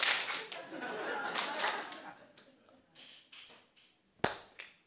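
Scattered audience clapping in a lecture hall, irregular bursts of claps that thin out, with a couple of sharp isolated claps near the end and murmuring underneath.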